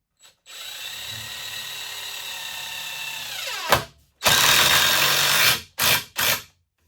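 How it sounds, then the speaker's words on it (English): A power drill drives two screws into a walnut table, with a long steady whine, a brief pause, a surge, then two short bursts before stopping, close and loud. "I'm just gonna put 2 screws in here."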